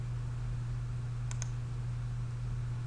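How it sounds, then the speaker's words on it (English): A computer mouse gives two quick faint clicks close together over a steady low electrical hum. "if you click on your little eyeglass symbol and you don't move the mouse"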